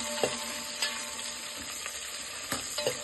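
Cashews, green chillies and onions fry in oil in a pan for a spicy chicken kurma with ghee rice, giving a steady close sizzle with a few light stirring clacks and no talk.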